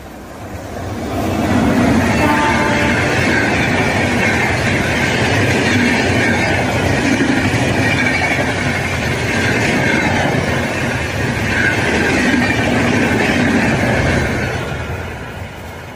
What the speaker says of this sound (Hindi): New Delhi Mumbai central डुरंटो express चली।